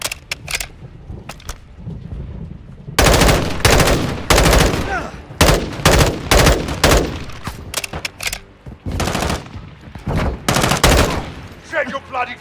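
Video game gunfire in a tactical shooter, heavy automatic bursts and repeated loud shots in rapid clusters that fill the scene, close and dominant, with short gaps between volleys and no clear talk over them.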